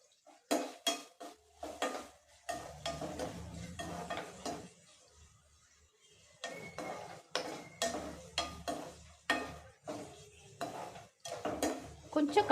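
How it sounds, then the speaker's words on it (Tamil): Onions sauté in a pan for egg masala while a utensil stirs and scrapes against the metal in repeated clattering strokes, with a soft sizzle underneath and a short pause halfway through. "இப்போ இந்த வெங்காயத்தை வந்து நல்லா வதக்கி விட்டுருங்க."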